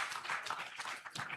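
Quiet, brief applause from an audience at a live-streamed panel session, a soft patter of claps heard from a distance.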